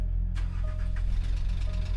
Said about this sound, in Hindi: तो मैं आपको अभी गाड़ी का इंजन ऑन करके दिखाता हूँ